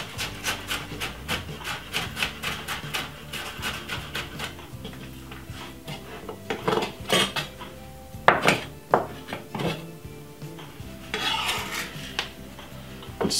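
A red onion being finely chopped for a summer salad, a run of quick knife taps on a board with scattered louder clatters of utensils, close and irregular.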